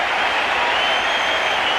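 Spectators at the SCG keep clapping for Australian batsman Dean Jones as he leaves the field in a 1993-94 World Series game against South Africa, an even, continuous roar of far-off applause with no voices on top.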